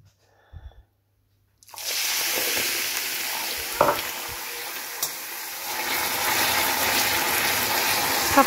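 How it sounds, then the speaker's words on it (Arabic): Melted sugar with coffee added sizzles loudly in a pot after a quiet start, a steady bubbling hiss with a few clinks of stirring. "عاد غادي نضيف ليه دابا القهوه ونبقى نحرك فيه."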